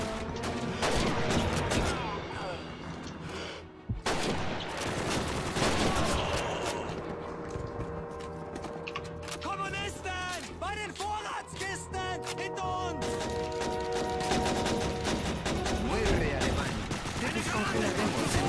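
Sustained machine gun fire and overlapping gunshots from the World War II shooter Call of Duty 2 on PC, loud and continuous throughout, with explosions and shouted voices mixed into the battle din.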